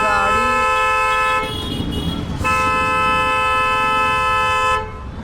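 A vehicle horn blares in long, loud sustained blasts, broken by one short gap before it resumes and then cuts off, with muffled background noise beneath.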